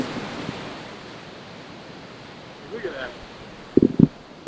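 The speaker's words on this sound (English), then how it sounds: "I mean, like, check out these waves." Ocean surf at Ka'ena Point on Hawaii's west coast, a steady wash of breaking waves with wind over the microphone, with a couple of brief louder knocks near the end.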